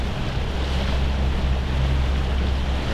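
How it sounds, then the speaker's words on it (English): Water from a dam on the Wisconsin River roars in a steady, loud, unbroken rush, with a low rumble and some wind buffeting the microphone. No one speaks during it. "There's water spewing out today though"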